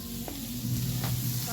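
Soybeans sautéed with spices in a pan over a wood fire give a steady, close sizzle, with brief stirring scrapes breaking through twice.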